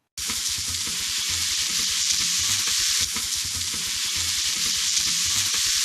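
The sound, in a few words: bacon frying in a pan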